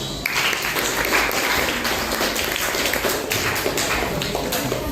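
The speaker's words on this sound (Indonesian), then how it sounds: "kita kasih tepuk tangan untuk kelompok Indonesia" Audience applause for a student group in a PGSD teacher-training class presentation, a steady dense patter of many clapping hands that holds loud and even throughout, with no voices over it.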